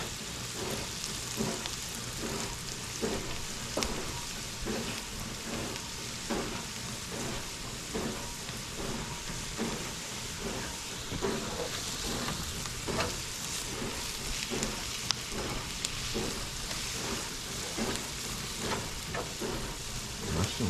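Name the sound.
mushrooms frying in butter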